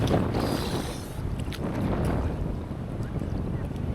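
Strong wind gusts and big waves crash at a beach in Dingalan, Aurora, a loud roaring wash with buffeting wind noise on the microphone.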